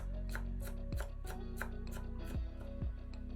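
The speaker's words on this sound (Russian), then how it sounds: "Пучок зелени измельчаем ножом." A kitchen knife chops a bunch of fresh herbs on a cutting board, making a steady run of crisp, evenly spaced close-up chops over a low, constant background hum.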